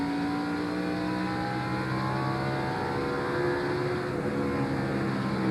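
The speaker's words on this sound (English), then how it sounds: "He gets up to about 137 miles an hour before hitting the brakes hard and going down to about 90." A 1999 NASCAR stock car at the Exide Select Batteries 400 holds a loud, steady engine drone that climbs in pitch through acceleration, with no clear braking drop heard.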